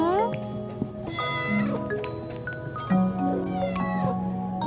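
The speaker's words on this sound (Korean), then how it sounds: "고양이" A separation-anxious cat meows repeatedly up close in several drawn-out, rising calls, while a person talks softly to it between and over the cries.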